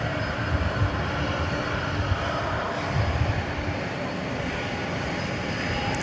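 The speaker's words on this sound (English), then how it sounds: "That was Flight 777 coming in from Las Vegas, an Airbus A321." An American Airlines Airbus A321 landing at DFW on a flight from Las Vegas gives a continuous, loud, broadband engine roar that holds steady for several seconds and swells slightly.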